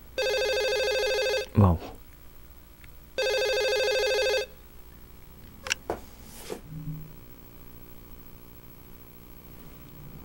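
A telephone rings twice in the video game Twilight Syndrome, two loud electronic bursts about a second and a half long each, followed by clicks and a short spoken exclamation.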